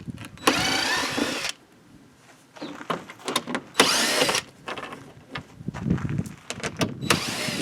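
Power drill fitted with a T30 bit loosening fender flare bolts on a KRX side-by-side, several loud whirring bursts of a second or so each, separated by quieter pauses with handling noise.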